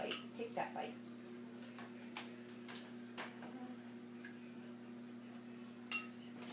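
A spoon scrapes and clinks against a bowl of breakfast food in a few faint, scattered taps and scrapes over a steady low room hum.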